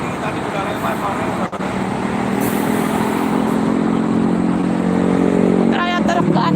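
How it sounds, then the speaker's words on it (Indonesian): Trailer trucks and other vehicles roll past in dense holiday homecoming traffic on a road near Jakarta, a continuous loud roar of engines and tires with a rising drone as a heavy truck passes. Voices can be heard faintly under the traffic. "Ternyata truk gandeng ya."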